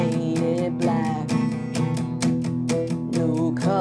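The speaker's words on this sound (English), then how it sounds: "So if I take this verse from the top all the way through, it's gonna sound like this." An acoustic guitar strums the verse chords of a song in a steady, driving rhythm of bright strokes, close and full, with no voice.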